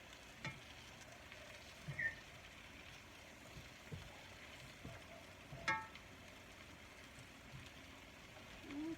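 Russet potatoes fry in a pan with a faint, continuous sizzle, broken by a few soft clinks and stirring sounds nearby.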